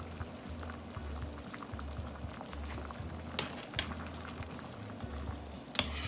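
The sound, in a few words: fish sauce added to simmering beef panang curry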